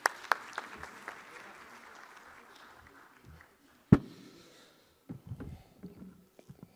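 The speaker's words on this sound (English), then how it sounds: "Please give a big round of applause." Audience applause at a conference opening, a burst of clapping that fades over about three seconds, followed by a sharp knock and scattered low thumps and rustles in a quiet hall.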